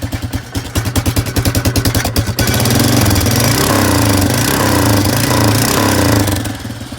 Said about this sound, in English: But first I gotta let the 4-wheeler warm up and